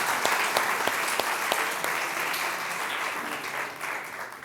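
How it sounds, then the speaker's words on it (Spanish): A church congregation applauds in the name of the Lord, a steady wash of many hands clapping at moderate loudness with a few sharper individual claps standing out. "¿qué tal si levantamos un aplauso al nombre del Señor?"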